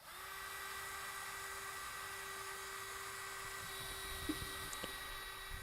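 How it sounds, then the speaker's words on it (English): A power drill runs steadily at slow speed, mixing StreetBond concrete primer in a bucket, with a constant whirring motor whine throughout and a few faint knocks near the end. "I'm going to drill mix this at a relatively slow speed."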